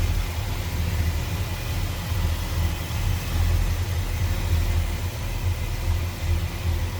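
A 1968 Oldsmobile 442 convertible with 1969 C heads, a 4-barrel intake manifold and a TH400 transmission idles with a smooth, steady low rumble that stays even and continuous, with no voices.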